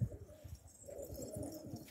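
A runaway pigeon coos close by in a soft, low repeated rhythm, several throaty pulses over a couple of seconds, heard alone without talk.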